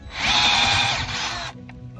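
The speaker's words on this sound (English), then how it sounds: "I'm just going to sock it down there until I feel like the screw go in deep enough." A power drill drives a screw into the roof of a cattle feeder, giving a steady close whir for about a second and a half before it cuts off. Faint background noise follows.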